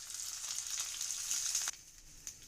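Urad dal, chana dal, mustard seeds and finely chopped ginger fry in oil in a kadai, giving a steady close bright sizzle that drops off sharply partway through, then continues softer with a small pop.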